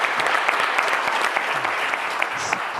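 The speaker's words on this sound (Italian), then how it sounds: "Allora facciamo un applauso a Gregorio." Loud studio applause in a TV sports programme, a dense steady patter of many hands clapping close by, with no talk over it.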